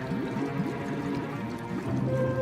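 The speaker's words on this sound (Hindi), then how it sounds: "गटर भर गया है।" Water spills steadily from an overfilled, blocked street gutter, a continuous close pouring and splashing with bubbling, gurgling ripples running throughout at an even level.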